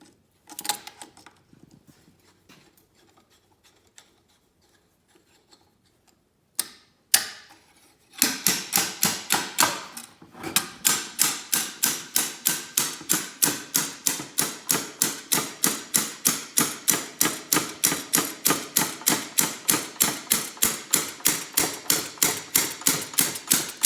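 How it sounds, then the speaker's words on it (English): Rapid, regular metallic knocks from a slide hammer puller pulling a part from an F23 five-speed transmission, loud and close, repeating steadily for about fifteen seconds after a few scattered taps. "Take a slide hammer puller and pull it out."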